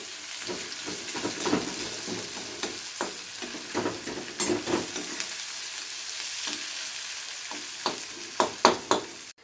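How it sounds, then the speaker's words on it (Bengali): Onions frying in oil until light brown, a steady sizzle broken by repeated scraping stirs and small clatters, growing busier toward the end, with no talking. "পেঁয়াজটাকে আমাদের হালকা বাদামি করে ভেজে নিতে হবে"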